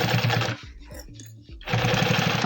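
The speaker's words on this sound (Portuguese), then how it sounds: "E vou vir passando a costura por toda a volta com bastante cuidado, especialmente nas curvas" A sewing machine stitching around a bucket bag with EVA lining: a close, rapid mechanical chatter runs at first, pauses for about a second amid soft handling clicks, then starts stitching again.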